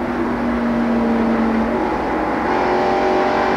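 NASCAR stock cars at the 1990 Transouth 500 race nose to tail, engines droning loud and close in a continuous roar with shifting pitch as the pack runs for position.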